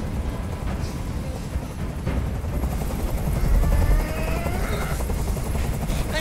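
Helicopter hovering overhead in Detroit: Become Human during a rooftop hostage standoff: a steady, loud rotor drone runs continuously throughout, with faint voices partly buried beneath it.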